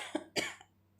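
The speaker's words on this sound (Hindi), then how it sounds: "खांसी" A single person coughing twice in quick succession, a short small cough followed by a louder, harsher one, close and clear in a quiet room.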